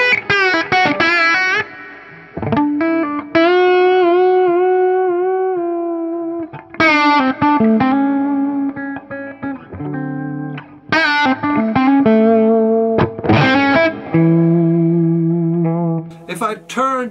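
Electric guitar on its bridge pickup runs through an overdriven amp, playing bluesy phrases of bent notes and sustained chords with short pauses between, loud and gritty with effects coloring, no talk over it.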